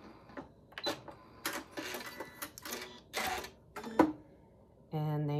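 A sewing machine stitches a quarter-inch seam with fabric guided against an M7 cloth guide, producing short bursts of mechanical whirring and clicking separated by pauses, ending in a steady run.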